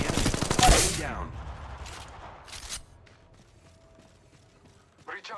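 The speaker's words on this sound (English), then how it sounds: "Opening fire on the enemy." Gunfire from the mobile battle royale game Apex Legends Mobile, a loud opening burst of rapid shots followed by scattered fainter bursts and quieter game sounds, with a game voice line calling out over it.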